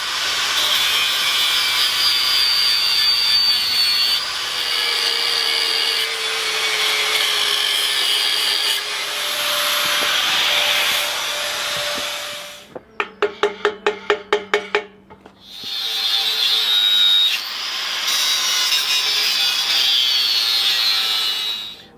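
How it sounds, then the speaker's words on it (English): Angle grinders cut and strip paint from steel axle brackets for an axle strengthening kit. The loud, sustained high whine rises and falls, then breaks into a rapid burst of chattering pulses before the grinding picks up again. "It's not an episode until all the grinders come out."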